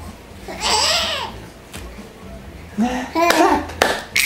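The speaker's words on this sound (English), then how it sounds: "Clap, clap, clap!" A child clapping hands during playtime, with a few soft claps at the end among babbling, squeals and adult speech.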